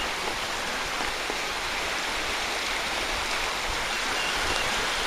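A brook running high after heavy rain, swollen but still below its banks, gives a steady, continuous rushing wash of water close by with no voices.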